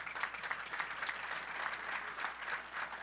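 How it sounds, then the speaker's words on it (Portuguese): Applause from a seated audience at a tax reform debate, moderately sized and somewhat distant, with steady clapping pulsing evenly for the whole stretch and no talk over it. "Então, já agradecer, pedir uma salva de palmas para ele."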